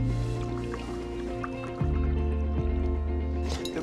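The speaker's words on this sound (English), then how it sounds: "Pour it over the chocolate." Boiling water poured over chocolate in a bowl, a continuous liquid stream with wet squishy drips, close and fairly loud, partly under a steady tonal background.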